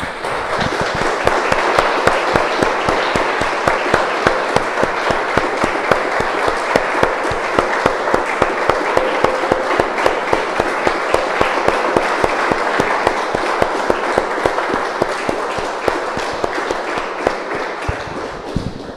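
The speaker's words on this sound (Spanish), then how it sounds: "Damos un aplauso, hermanos, al Señor." A church congregation bursts into sustained, dense applause, many hands clapping loudly and continuously for nearly twenty seconds, with a few faint voices mixed into the crowd noise.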